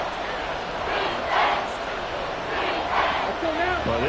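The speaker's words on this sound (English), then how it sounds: "this crowd is making an impact right now" A stadium crowd roars at a football game between the Jets and Saints, a loud sustained swell of cheering with rising surges throughout.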